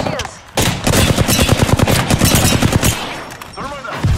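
Rapid bursts of automatic gunfire from enemies in the video game Apex Legends, loud and close, a dense rattling volley running for several seconds before easing off.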